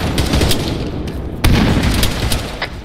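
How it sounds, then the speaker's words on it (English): In the ARMA 3 video game, a grenade explodes amid gunfire, heard as loud, dense booms and bursts of shooting with a sharp blast standing out partway through. "Frag out."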